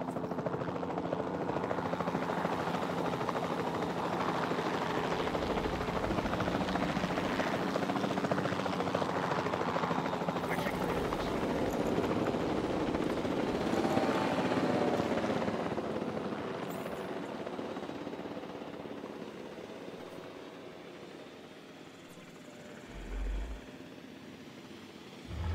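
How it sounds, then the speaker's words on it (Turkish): Helicopter in the video game Jurassic World Evolution 2, a sustained rotor and engine drone that holds steady, then gradually fades as it moves off, with a brief low thump near the end. "Bizim helikopter nereye gitti?"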